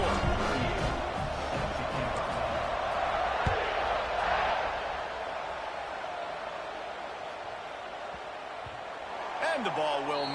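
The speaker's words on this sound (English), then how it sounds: "this crowd is buzzing after that last score" Football stadium crowd after a score, a broad roaring buzz of many voices that swells early, fades slightly, then rises again, with scattered thuds.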